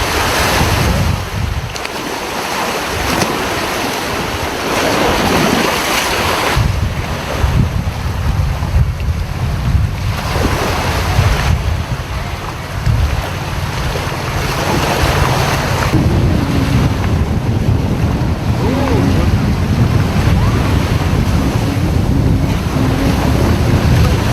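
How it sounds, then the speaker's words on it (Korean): Heavy ocean surf rolls in and breaks strongly, a loud roar with surging swells and gusty wind buffeting the microphone throughout, with no voices. "저기 멀리서 파도가 오는 거예요"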